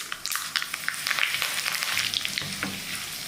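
Mustard seeds, cumin, five dry red chillies and curry leaves fry in hot oil as a tempering, giving a steady close sizzle dotted with rapid crackles and pops.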